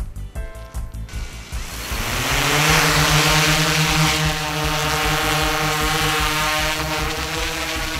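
A DJI Inspire 1 drone on a flight test spools up from a few chopping pulses into a loud, sustained propeller whine with wind rush, near the microphone, with no speech.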